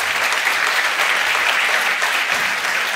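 An audience at an epilepsy summit round table breaks into applause. The clapping is loud, dense and sustained, with no other sound over it.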